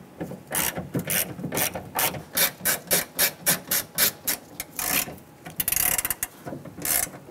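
A hand ratchet clicks in repeated short bursts, close and clear, driving a Torx screw into a Dodge Ram 1500 rear door with no talking.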